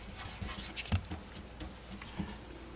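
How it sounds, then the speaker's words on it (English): Sanding block rubbed by hand over a run in automotive clear coat, giving soft, steady scratchy rasping strokes at low level with a few faint knocks, and no talking. "we'll get this run block sanded flat"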